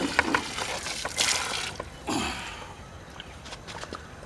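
Water runs and splashes in short bursts while chicken for tandoori is washed at a night campsite, a close, irregular trickle with quieter pauses between.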